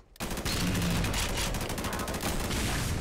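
Heavy weapon fire in Sven Co-op, a dense roaring fusillade of blasts and rapid shots that erupts suddenly and keeps pounding close and loud for the whole stretch.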